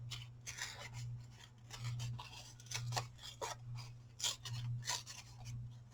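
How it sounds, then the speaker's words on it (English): Craft paper is torn by hand to give a tag booklet distressed, aged edges: a string of short, close, quiet rasping rips, with a faint steady hum underneath. "I'll just fussy tear them."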